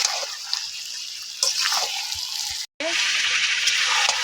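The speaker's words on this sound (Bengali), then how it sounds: "এবার আমরা জল ঢেলে দেবো।" Water poured into a pan of chicken curry with fried potatoes, a loud sizzling hiss and splashing close up, briefly cutting out before resuming steadily.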